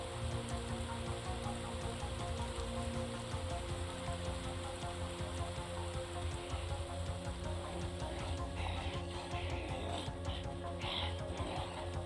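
Steady rain in the video game Project Zomboid, a soft continuous patter of drops on surfaces, faint and even throughout, with a few slightly brighter splashes near the end.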